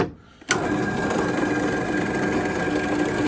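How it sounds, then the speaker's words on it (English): A drill press with a cobalt bit starts abruptly and whirs steadily, a continuous grinding drone as it bores through parang knife handle material, close and loud. "We'll drill all the way through on that one."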